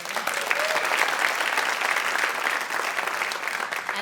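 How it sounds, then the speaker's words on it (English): An audience claps for a ballet dancer at a dance talk, a dense, even burst of applause from a crowd that carries on for several seconds. "So you can clap for her."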